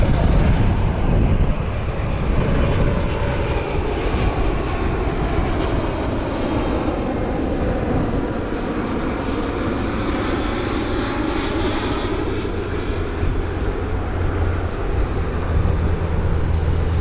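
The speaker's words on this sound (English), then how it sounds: "Check this out, 2569, a Star Alliance 777 inbound from Houston." United Boeing 777 airliner flying inbound toward Cleveland Hopkins airport in fog, a loud, sustained jet engine roar that holds steady throughout, close and unbroken.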